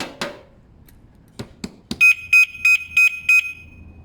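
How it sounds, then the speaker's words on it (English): A Zontes Mantis cruiser 125 motorcycle alarm gives a warning: five loud, evenly spaced electronic beeps in quick succession, preceded by a few sharp clicks and knocks. "So it gives you a warning beep"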